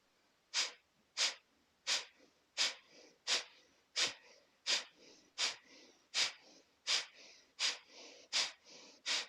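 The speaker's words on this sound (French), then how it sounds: "Inspirez." During an abdominal-strengthening yoga exercise, about a dozen sharp, forceful breaths come through the nose at a steady, even pace, each a short, close hiss followed by a brief quiet gap.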